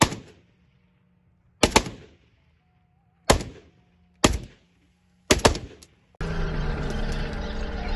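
Police firearms firing in a drill during an operation against bandits in the riverine Kacha area near Rajanpur and Rahim Yar Khan: five sharp, loud shots spaced irregularly over several seconds, each with a short echo, followed by a steady burst of sustained noise.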